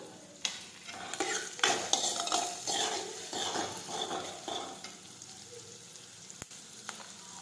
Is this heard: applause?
no